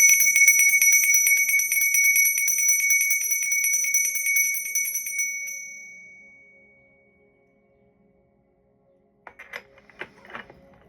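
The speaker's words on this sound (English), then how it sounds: "I'm going to ring the bell and clear your energy." A bell rung to clear energy, bright ringing tones that sustain and slowly fade into silence, followed by faint handling noises.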